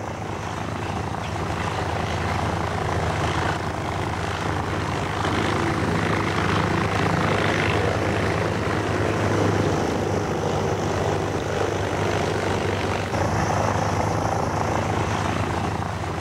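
A steady, loud drone of an early Wright aeroplane's engine and propeller in flight continues unbroken throughout, close and alone with no voices.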